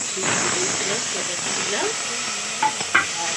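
Tomato, onion paste and turmeric sauté in a pan for a Bengali katla fish kalia, giving a steady hiss and sizzle with soft stirring, then two sharper utensil knocks at the end.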